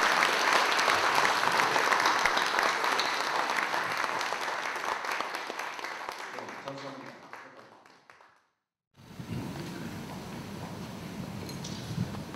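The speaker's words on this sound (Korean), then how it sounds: "우리 다 같이 큰 박수로 앞으로 고생하실 걸 생각해서 박수 한번 부탁드리겠습니다" Audience applause at the launch meeting of a Korean advisory council in eastern Canada, dense clapping that fades out gradually over several seconds and stops, followed by room murmur.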